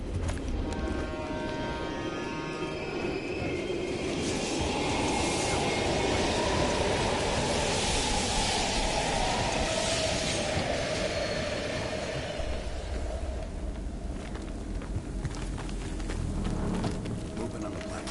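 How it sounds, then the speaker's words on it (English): A train from a video game rumbles past with a steady roar, a rising and fading whoosh and metallic rattling, moderately loud with no talking. "We can use a train to slip past."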